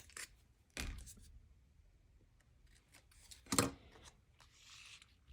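Scissors trimming paper scraps for a stamping and embellishing craft project, a few quiet separate snips and rustles with pauses between them, close by and soft, with one sharper cut standing out.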